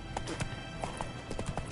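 Roach, a horse in The Witcher 3, gallops with quick rhythmic clip-clop hoofbeats, close and steady, over a low game ambience while a voice speaks briefly.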